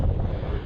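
Strong wind buffets the microphone on the hilltop at Mill Hill and Featherbed Top, a short, steady low roar of rushing gusts with no talk.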